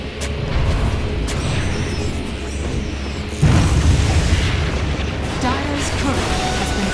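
Dota 2 turret destroyed in a pro match between T1 and Execration: a sudden heavy boom partway through, swelling over a dense layer of game effects and crowd-like background noise, then a sustained rumbling tail.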